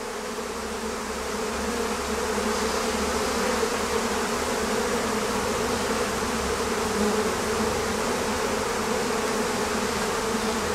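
A honeybee colony being moved into a larger hive drones with a steady, dense, continuous buzz of many bees up close, holding at an even level throughout.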